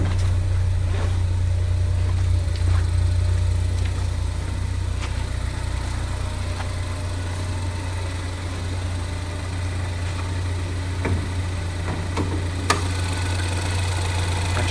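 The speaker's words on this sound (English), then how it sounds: "we're going to pop the hood and let you listen to the engine" A 2015 Ford Focus ST idles with the hood open: a steady, close, low engine hum with faint ticking and a few sharp clicks, with no talking.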